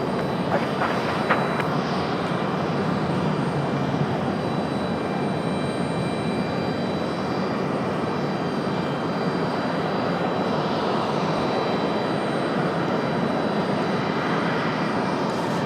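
An Icelandair Boeing 737 MAX 9 arriving from Reykjavik at Raleigh-Durham International, a broad continuous engine roar that holds steady across the whole stretch, moderately distant with no voices.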